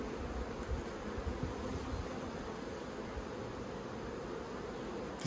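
Honey bees buzzing around hive boxes during Australian beekeeping, a dense, continuous hum of many insects, close and steady, with no talk.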